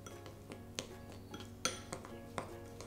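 Ground spices, including half a teaspoon of ground nutmeg, mixed together in a bowl: a handful of sharp clinks and taps of a utensil against the dish, spaced irregularly over steady faint background, no talking.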